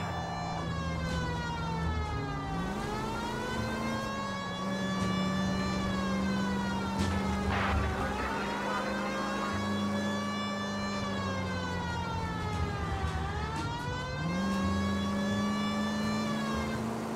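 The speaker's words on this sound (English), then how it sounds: "Please, Phelps. The siren." A police car siren wails in the video game L.A. Noire, a steady rising-and-falling cycle heard alongside a car engine, continuous for over fifteen seconds.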